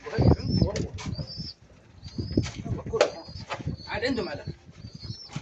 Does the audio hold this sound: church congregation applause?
no